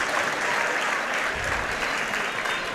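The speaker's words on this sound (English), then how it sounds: "5 seconds left in the match, and a lot of applause here." Continuous crowd applause fills a high school gym at the end of a varsity boys wrestling dual meet bout, dense and loud throughout the short stretch.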